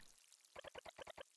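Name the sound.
watering a potted tomato plant in video game Eastward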